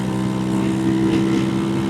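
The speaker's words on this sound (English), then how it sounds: "It's hard to film with the scooter being so bloody loud" A loud scooter engine droning steadily while riding over the bridge across Laguna Madre toward South Padre Island, with a close buzzing hum mixed with wind rush and no talking.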